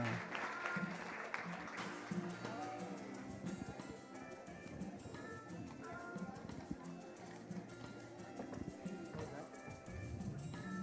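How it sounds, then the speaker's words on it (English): Applause from the audience at a finance and insurance summit, clapping mixed with background chatter and music in a busy hall, sustained throughout at a moderate level. "Big round of applause."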